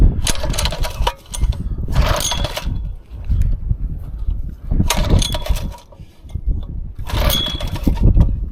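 A small engine roars in surges as the throttle is opened and eased off repeatedly, each burst of revving followed by a quieter idle, close and loud.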